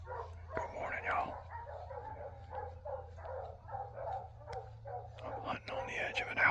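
A pack of hog dogs penned up at a hunting outfitter near the Kissimmee River barks in repeated bursts from a distance, over a steady low outdoor hum.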